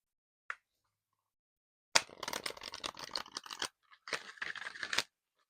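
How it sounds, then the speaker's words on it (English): A stack of oracle cards being shuffled close by, two bursts of dense riffling and slapping separated by a short pause, with a faint tap before. "Let's shuffle these cards."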